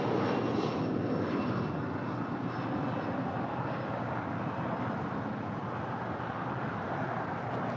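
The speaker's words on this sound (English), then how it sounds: "That was a Bombardier Challenger 605 departing here on the south side." Bombardier Challenger 605 business jet departing from the south side of LAX, a steady broad roar of jet engines heard from a distance that stays loud and fades slightly over time.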